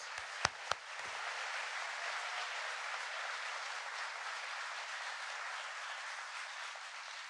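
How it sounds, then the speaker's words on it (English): Sustained applause from an audience at a presidential jobs speech, after a couple of sharp knocks at the start, holding at an even, moderate level throughout. "Please give them a round of applause"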